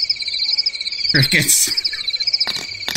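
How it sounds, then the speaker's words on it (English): Crickets chirp steadily in a dense, close pulsing drone used as a comedic silence effect after a joke on a storytelling podcast, with a few brief thumps and rustles cutting through. "Crickets."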